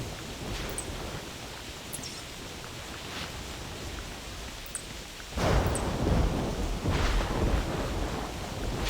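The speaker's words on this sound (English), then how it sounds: "This thunder is pretty intense out here too." Thunderstorm in the hunting video game theHunter 2017: steady heavy rain hiss with a low rumble of thunder that swells loudly about halfway through and keeps rolling.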